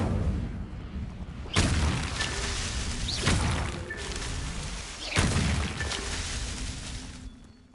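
In Hogwarts Legacy, the Incendio fire spell erupts in three loud whooshing bursts at even intervals, each flaring up then rumbling down, with no voices.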